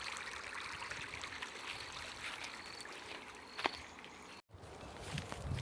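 Continuous rushing of flowing water, fairly steady and close, with a brief cut near the end and no speech.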